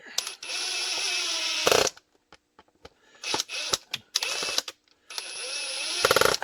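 A power drill whirs in repeated bursts, starting and stopping several times, with clicks and clatter between runs.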